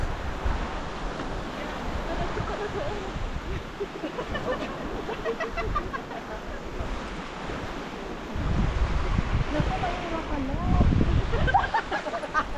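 Sea waves wash onto the shore at a campsite, a continuous rushing surge mixed with wind buffeting the microphone, growing louder toward the end, with voices faintly present.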